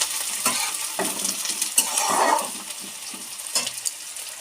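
Onion lightly frying in a pan gives a soft, uneven sizzle with spatula scrapes and stirring taps through the short stretch, fairly close and moderate in level, with no talking.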